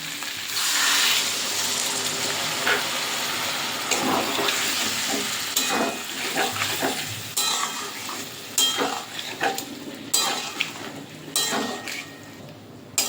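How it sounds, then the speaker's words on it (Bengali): A bowl of water goes into a pan of frying jackfruit and prawn curry, setting off a burst of hissing sizzle, followed by bubbling, spoon stirring and clinks of cookware against the pan. "এবার আমি 1 বাটি জল দিয়ে দেবো।"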